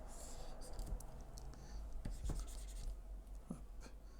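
Stylus scratching across a drawing tablet surface while erasing during digital animation work, a series of soft, quick dry strokes close up, faint and alone.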